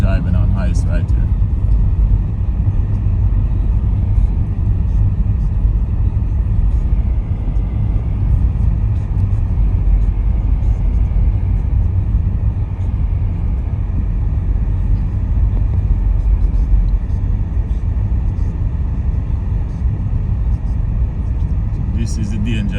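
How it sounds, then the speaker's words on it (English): A car drives over an icy minor road after a snow storm, giving a steady, loud rumble of engine and tyres that runs unbroken throughout while someone talks over it. "So you're driving on ice right here."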